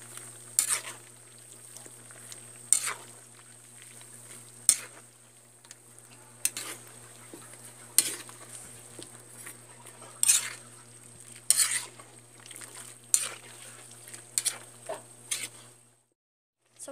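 Vegetables simmer in coconut milk in a pan while a spoon stirs them, making sharp scraping strokes every couple of seconds over a low, steady bubbling sizzle and a faint hum, close by and with no talking.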